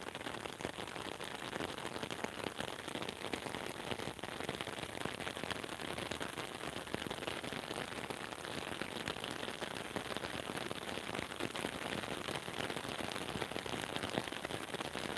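Steady rain pours onto open water in a city setting, a dense, continuous hiss of drops that stays even and close throughout, with no voices.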